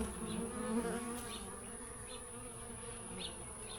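Scout bees fly around a tree outdoors, a steady, fairly faint swarm-like buzz with individual insects droning past now and then.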